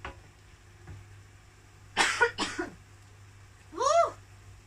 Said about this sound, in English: Sorry about the sneezing and coughing and all this.